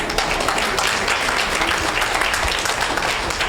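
Loud, dense applause from a church audience during a sermon, many hands clapping in a continuous roar that holds steady throughout with no talking over it.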